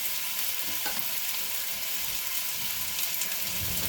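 Lamb meat frying on a stovetop gives a steady, close sizzle with dense crackling, continuous throughout with a faint tap of utensil near the start and no talking.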